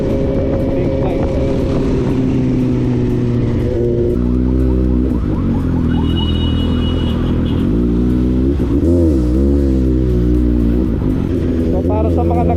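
A Suzuki GSR 750 big bike engine runs loud and close with repeated revving swells over a steady low rumble, while people talk throughout.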